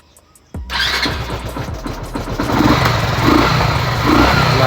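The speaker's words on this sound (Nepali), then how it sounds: "ल टक्क वान ट्यापमा बाइक पनि स्टार्ट भइसकेको छ" A Yamaha FZ motorcycle engine fires up on the first press of the starter after a timing adjustment, catching abruptly and settling into a loud, steady close-up idle that builds slightly as it runs.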